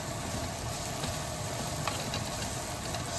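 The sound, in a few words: sauteing in butter and steak grease, sizzling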